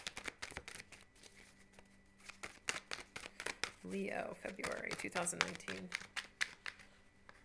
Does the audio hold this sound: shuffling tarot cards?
yes